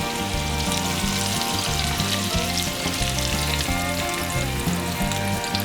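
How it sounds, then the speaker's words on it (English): A blooming onion deep frying in hot oil gives a loud, continuous sizzle and crackle, steady and close with no voices, over a background of music. "Check the onion to see if it gets golden brown, and when it does, flip it"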